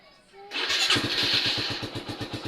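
A Suzuki Raider 150 carbureted motorcycle, which had been stalling from a hole near the spark plug seat, cranks and fires up after a brief whine, then runs with a rapid rhythmic putter, loud and close.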